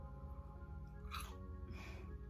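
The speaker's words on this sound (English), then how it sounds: "do you hear that crunch?" Two crisp crunches of someone biting into Panda Express orange chicken, close and quiet, over a low steady hum.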